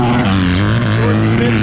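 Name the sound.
motocross bike engine hitting the rev limiter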